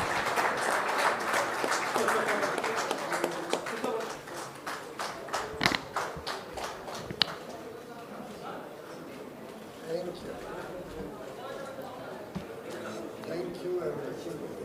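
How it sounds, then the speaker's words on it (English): Audience applause in a conference hall after a session at the CII Partnership Summit 2025 in India, a steady wash of clapping that thins and fades over about fourteen seconds, with a few sharper claps standing out near the start. "please join me in thanking our two leaders with your warm applause"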